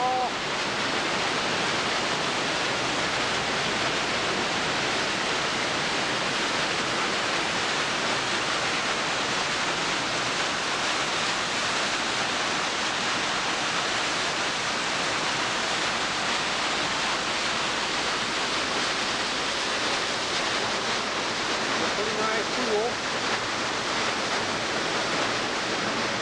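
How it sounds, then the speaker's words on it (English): A waterfall near Silverton, Colorado roars steadily and loudly throughout, a dense unbroken rush of water close by with no letup. "I don't know if you can hear me over the waterfall."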